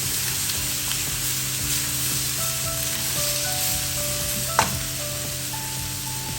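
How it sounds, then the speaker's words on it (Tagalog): Chicken feet curry sizzles steadily in a hot pan with cloves, star anise and bay leaf, a constant frying hiss with occasional soft scrapes of stirring and one sharper clatter. "Haluin ko lang sandali."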